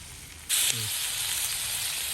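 Whole fish, a large kodai from a Mangalore hotel-style recipe, frying in oil in a pan: a steady, close sizzle that jumps louder as the fish goes in, then holds a constant crackling hiss with no talk.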